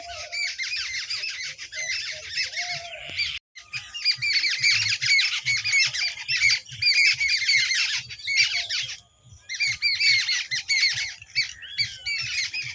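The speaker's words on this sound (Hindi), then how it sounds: "देख रहे हैं कितनी सारी चिड़िया, जैसे लग रहा है कि मैं उसके बच्चे को मार रही हूँ।" A flock of birds squawks loudly and continuously near a chick, dense overlapping harsh calls with a brief pause, then resuming in waves close by.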